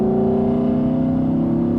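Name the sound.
Porsche GT3 RS engine under load in high gear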